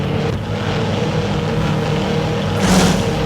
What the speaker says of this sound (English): So enjoy the engine sounds you will hear.